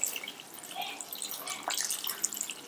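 Water poured into a pot of country chicken curry, a light, uneven splashing and trickling that stays fairly quiet throughout with a few small drip-like spikes.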